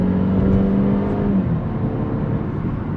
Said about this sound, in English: wow, the shifts are quick in this car.